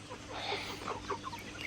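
Chickens on a small farm with fish ponds and a garden cluck softly in short irregular bursts over steady outdoor background noise, fairly faint and somewhat distant.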